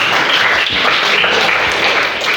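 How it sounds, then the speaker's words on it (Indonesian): Students burst into steady applause in a classroom, a dense wash of many hands clapping together, loud and continuous throughout. "Tepuk tangan buat kalian semua."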